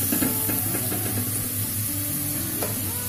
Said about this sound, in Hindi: हमारी भिंडी अच्छे से फ्राई हो चुकी है, इसमें से आवाज़ भी आ रहा है।